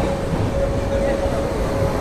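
The Tatanagar–Ernakulam Express pulls out of Balangir Junction with a loud, continuous rumble of wheels and carriages, heard from on board with a steady, unbroken roar.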